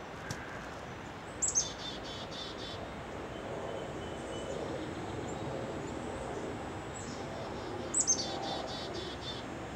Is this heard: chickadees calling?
yes